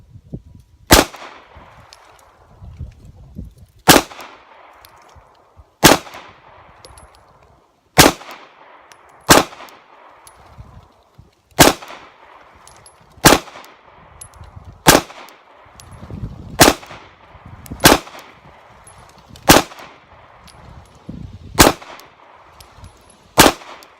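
Pistol shots from Glock 19 and Glock 34 handguns and a Kel-Tec Sub2000 carbine at an outdoor range ring out in a steady series of about fourteen loud, evenly spaced reports, with metallic impacts on steel targets between them.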